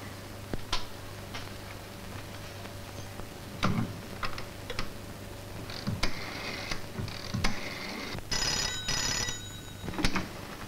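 A telephone bell rings in an old Marathi comedy film scene, with several short rings standing out over a steady low hum and faint room noise, and no talking.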